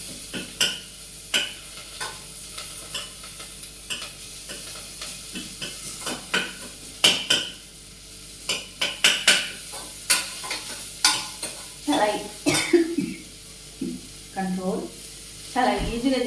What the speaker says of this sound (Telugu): సాల్ట్ వేసి ఇప్పుడు వీటిని మనం ఫ్రై చేసుకోవాలి.